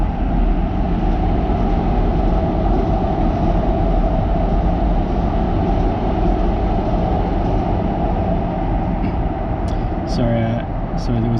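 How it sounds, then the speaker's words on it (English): A train passes by outside a garage where someone is working on a VW Passat B5.5, a loud continuous low roar and rumble lasting several seconds, with a voice speaking over it near the end. "there was a train passing by"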